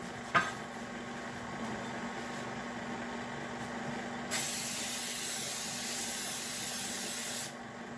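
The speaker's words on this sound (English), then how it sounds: "I'm going to spray the pans with that." A light tap, then a steady hiss of cooking spray from an aerosol can onto cake pans, growing louder for a few seconds before stopping, against a faint hum.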